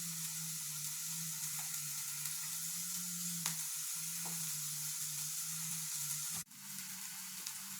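Onions frying in a pan for lasagne give a steady, close sizzle with faint scraping stir marks, then a brief sharp clatter near the end before the sizzle resumes.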